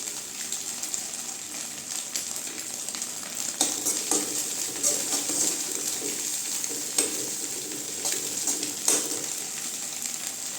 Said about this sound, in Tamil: நல்லா இப்படி கிண்டிக்கணுங்க அப்படி தூள் தூளாக வரும்